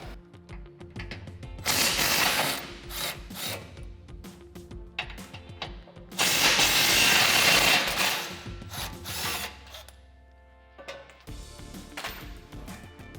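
Power tool or ratchet driving skid plate bolts under a Jeep Gladiator JT, two loud whirring bursts of several seconds each with quieter mechanical clicks and handling noises between, nearby and without talk.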